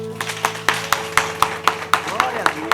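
A church congregation claps in a steady rhythmic beat during a worship service, sharp regular hand claps about every quarter second, loud and close over a sustained musical drone with background voices.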